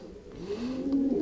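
Pigeons in a pigeon loft give a soft, low cooing that swells gently over a moment, close by and fairly quiet, with no talk.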